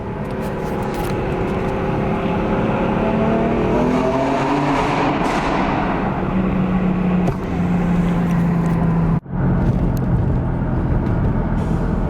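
BMW M4 with an S55 engine accelerating hard through a tunnel, loud rising engine and turbo roar climbing through gears with pitch sweeps and a brief shift gap, echoing and continuous throughout.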